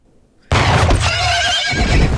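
A horse lets out a loud, close whinny that starts abruptly and trails into a wavering, breathy neigh lasting under two seconds.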